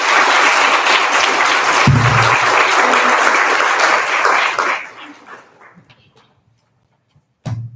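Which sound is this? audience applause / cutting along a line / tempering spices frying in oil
audience applause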